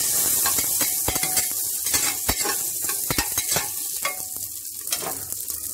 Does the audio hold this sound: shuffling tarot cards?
no